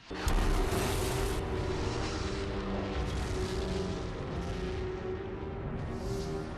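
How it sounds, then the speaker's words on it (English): A huge lava rock from a volcanic cloud hits the ground and explodes in a disaster film about Yellowstone's eruption, opening with a heavy close boom followed by a sustained rumbling roar with further bursts. "There's a huge lava rock flying out of that volcanic cloud, hitting the ground and exploding."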